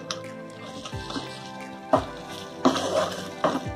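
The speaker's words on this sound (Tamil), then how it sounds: "வதக்கி வச்சுருக்கோம் இல்லையா அந்த கத்திரிக்காவை இதுக்குள்ள சேர்த்துங்க" Fried brinjal tipped into masala gravy in a pan for Ennai Kathirikai kulambu, a close, sizzling fry with several distinct stirring and splashing thumps spread across a few seconds, no voices.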